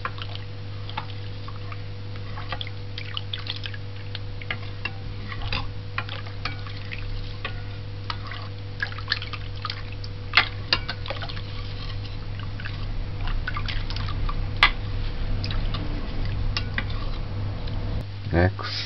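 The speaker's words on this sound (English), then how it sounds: "This is condensed milk, sweetened condensed milk. So you just stir this in." A spoon stirs sweetened condensed milk into carrot juice, giving faint scattered clinks and soft liquid swishes over a steady low background hum.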